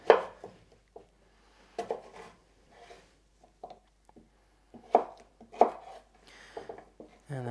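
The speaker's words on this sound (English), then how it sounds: "cubes of cucumber. So I'll just cut into some slices. Turn it and cut again." A knife chops a cucumber into slices and then cubes on a board. The cuts are irregular, close, sharp knocks, some single and some in quick clusters, with quiet gaps between them and no talk.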